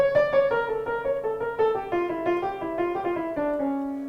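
Piano notes played one after another in a steady stepwise line, a harmonic or melodic minor scale with sustained, ringing tones.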